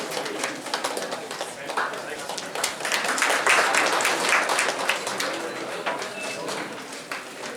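Applause from the audience at an inaugural ceremony, a broad wash of clapping that swells in the middle and then thins out, with a pigeon cooing nearby and faint voices underneath.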